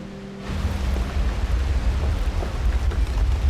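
Waterfall water, a loud, steady broadband rush with heavy low roar, building in the first half-second and then pouring on continuously.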